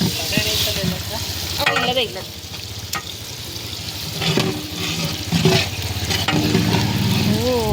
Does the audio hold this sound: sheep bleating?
no